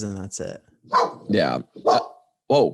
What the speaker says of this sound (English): he's got a dog barking